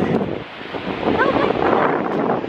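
Ocean surf and wind at Bondi Beach, Sydney, roar steadily with buffeting wind noise on the microphone, a continuous loud wash of breaking waves nearby.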